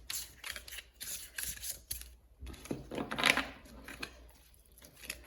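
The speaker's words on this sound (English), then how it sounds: "I can't even stop shuffling them" A new Midnight City Tarot deck is shuffled by hand, giving soft, rapid riffling and flicking card sounds in short bursts, close and fairly quiet.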